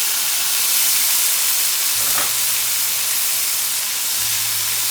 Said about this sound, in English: I'm going to toss in the potatoes